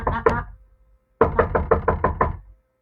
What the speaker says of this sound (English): Knock, knock, knock, knock, knock,